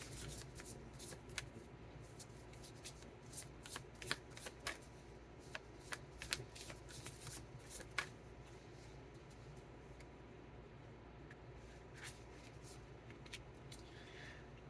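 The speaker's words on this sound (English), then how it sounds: "I'm going to pull out a card from the SUFI Tarot." Tarot cards being shuffled and drawn by hand: a steady riffling patter with sharp crisp snaps scattered through, close and clear, with no talking.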